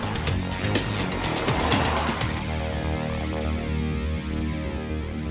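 A Kia Forte drives past with a loud rush of engine and road noise, a brief squeal of tyres early on, then a steady mid-distance hum.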